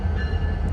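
CN freight train L568 with a GTW locomotive leading and two BNSF units trailing, one of them green, rolls past as a steady, loud, low rumble that continues throughout without a break.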